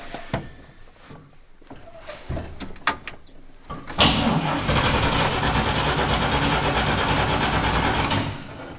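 A few clicks and clunks come first, then a 1941 Chevy engine cranks and catches. It runs roughly for about four seconds before cutting out, loud and close.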